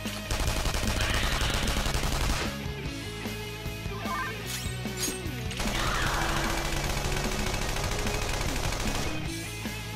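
Rapid gunfire rattles through a Persona 5 Royal boss battle against Cognitive Wakaba Isshiki, dense and continuous, blending with loud game sound across the whole stretch.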